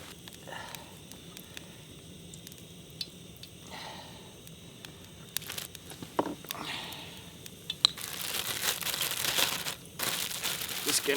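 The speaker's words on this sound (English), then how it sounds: "Just gonna mix it in the bag." Lake trout pieces being mixed with lemon pepper batter in a bag at a campsite: close crinkling and rustling of the bag with soft squishing, growing louder and more constant toward the end.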